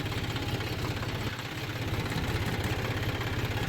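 A John Deere 5036D tractor engine runs at reduced RPM while pulling a 7-foot rotavator, giving a steady, close, throbbing diesel rumble with an even pulsing beat and no pauses.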